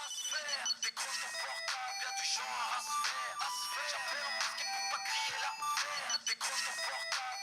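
A mobile phone seized in a drug-trafficking investigation in Paris's 13th arrondissement rings with a bright, melodic ringtone that plays steadily in repeating phrases at moderate loudness, with no voices over it.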